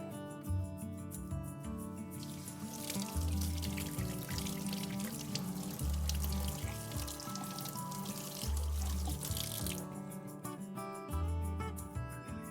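Running tap water pours steadily for several seconds while hands are washed with Savlon hand wash, a broad rushing hiss under prominent rhythmic background music.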